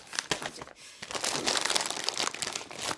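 A parcel holding a QiYi Pyraminx Magnet Bell puzzle being opened, with close, loud plastic crinkling and crunching in quick bursts, then a denser, continuous rustle.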